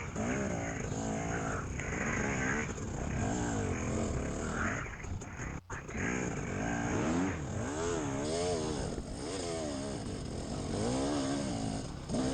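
A four-stroke dirt bike engine at a muddy hare scramble, revving loudly and close by in repeated rising and falling sweeps over a constant engine drone, with no talk.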